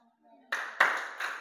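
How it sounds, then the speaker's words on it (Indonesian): A class clapping hands along with a song, a few sharp claps that start after a short quiet stretch and recur in a loose rhythm, close and moderately loud. "Pokoknya nyanyi sambil tepuk tangan."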